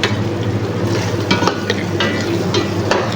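Chicken with baharat, lemon and chicken masala is stirred in a hot pan, a steady sizzle of frying under scraping and clinking of a utensil against the pan, close and continuous, no voices.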